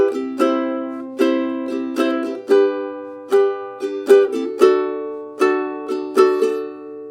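A ukulele strums the intro chord progression of a song in bright, ringing strokes, each chord struck and left to decay, about a dozen strums at an unhurried, steady pace, clear and close with no voice.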